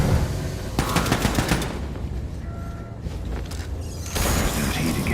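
Rapid automatic gunfire from a weapon in Wolfenstein 2: The New Colossus rattles loudly in dense bursts over continuous game noise, with a short lull in the middle before the firing resumes.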